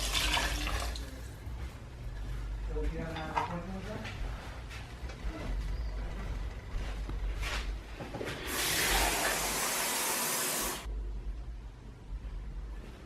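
Water pours into a pot for red bean sauce, a steady splashing stream that stops abruptly, with a voice speaking over parts of it.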